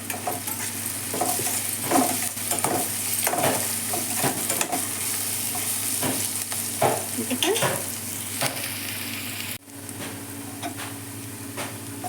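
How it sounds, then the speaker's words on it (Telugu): Onions with a little salt fry steadily in a pan, a continuous close sizzle broken by stirring scrapes and a few sharp ticks, with no talking. "ఉల్లిపాయలు బాగా వేగిపోయాయి"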